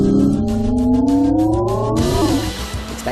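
A Renault Clio RS 200 EDC engine revs steadily upward through its range, played as a synthesized sound through the car's speakers with the Air Sound effect, then drops off abruptly into lower, rougher engine noise.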